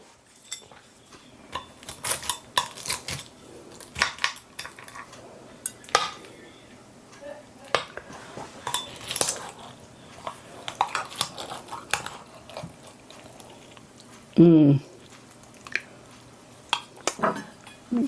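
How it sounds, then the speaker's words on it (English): A spatula cuts and lifts ground beef casserole from a baking pan, making repeated close metallic scrapes and clinks with soft squishy handling noises and a few louder knocks, spread unevenly over the span. "hopefully I can go ahead and get it out of the pan without any problem"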